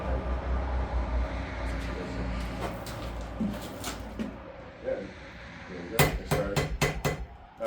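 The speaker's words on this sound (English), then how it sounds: "Stay in the same spot with those blows, like 1, 2." Blacksmith hammer blows on hot metal, a quick burst of sharp metallic strikes near the end after quieter clatter, with speech-like sound in the background.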